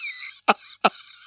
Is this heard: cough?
yes